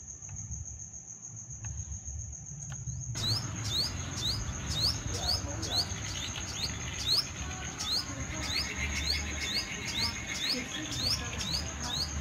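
A caged sunbird kept as a pet chirps in quick repeated high bursts over a continuous insect-like drone, loud and close, with no talking.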